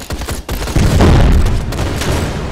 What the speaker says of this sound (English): Need artillery strikes.